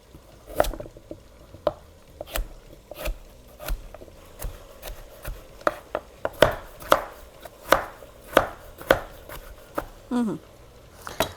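Carrots chopped with a knife on a board, a series of sharp, crisp thuds in an uneven rhythm, close and clear, speeding up in the middle with a brief scraping sound near the end.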